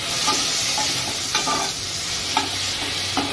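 Green chilli, garlic and tomato sautéing in oil with curry leaves for a moong bean dish, a loud close sizzle with repeated scraping and stirring knocks spaced about a second apart, no speech.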